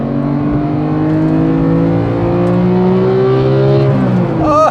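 The naturally aspirated engine of a Porsche 991.2 911 GT3 revs up to 8,000 RPM, its loud, close tone climbing steadily in pitch before it drops off sharply at the end.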